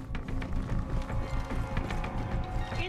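Quick, uneven hoof clatter from horses in the video game Far Cry 6, soft and close, tapping in a running clip-clop rhythm over a low game-ambience hum.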